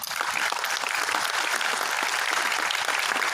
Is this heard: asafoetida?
no